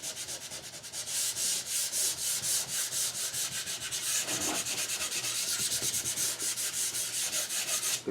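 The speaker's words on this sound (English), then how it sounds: "does no harm to just pass a little 220 sandpaper over it" Hand sanding of a cherry wood spice box with 220 grit sandpaper produces steady, rhythmic back-and-forth rubbing strokes, close and fairly quiet, continuing for several seconds with no voices.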